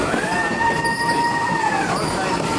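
A train on the Sakaleshpur to Karwar line rolls loudly along the tracks, with a steady rumble and high metallic wheel squeals drawn out over it, close by.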